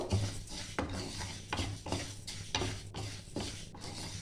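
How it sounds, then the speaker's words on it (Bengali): Dal lentils fry dry in a pan, making a soft, rasping sizzle. Rhythmic scraping strokes of a spoon stirring against the metal repeat about once a second. "1 থেকে 2 মিনিট আমি ডালটা ভাজবো।"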